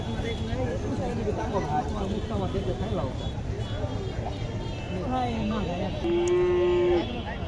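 A large buffalo lows with a low, drawn-out moo near the end, amid steady outdoor background noise and people talking at the Gopinath buffalo fair in Naogaon, Bangladesh.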